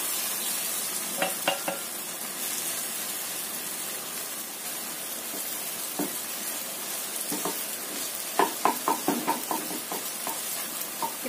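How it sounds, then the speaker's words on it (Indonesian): Scrambled eggs sizzle steadily in a hot pan while a utensil stirs and scrapes in bursts of clinks and scratches; no voices. "Kita goreng orak-arik."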